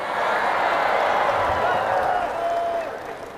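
A congregation applauds during Ustadz Abdul Somad's sermon, a dense, steady patter of many hands clapping that fills the hall for a few seconds and eases off slightly at the end.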